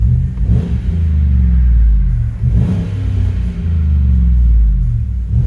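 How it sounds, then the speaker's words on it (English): Deep, steady V8 rumble from a 2015 Chevy Tahoe's 5.3L engine with its muffler deleted, heard from inside the cabin as a loud low drone with slight swells in revs and no talking. "Inside this 2015 Tahoe, let you guys hear it. Just did a muffler delete."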